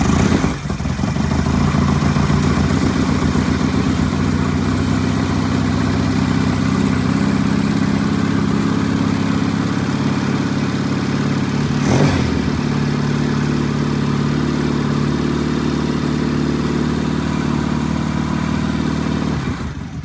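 A 1974 Norton motorcycle engine runs loud and close just after a first start, a continuous rough mechanical drone with a brief blip midway, holding steady throughout.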